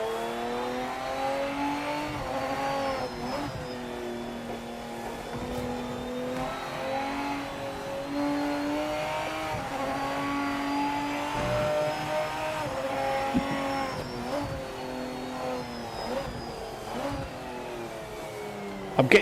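A race car engine in the Project Motor Racing video game revs hard and continuously, rising and falling through gear changes for almost twenty seconds. The note is loud and harsh, with brief tire noise and no talking.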